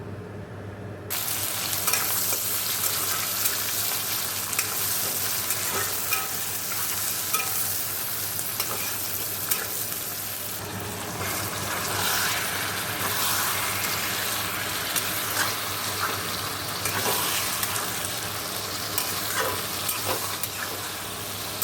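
Fish fried in oil in a wok, with a steady, dense sizzle running continuously after a brief quiet start, dotted with small crackles and pops, fairly close and without talk.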